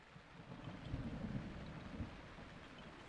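Steady rain pattering with low rumbling thunder rolling underneath in The Legend of Zelda: Breath of the Wild, continuous and moderately loud, no voices.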